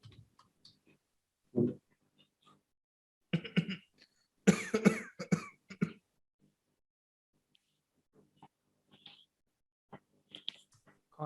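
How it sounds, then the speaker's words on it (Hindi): A few sharp coughs break an otherwise quiet room, two short bursts followed by a longer fit of coughing, with faint clicks scattered around. "खांसी आ गई थी, सॉरी।"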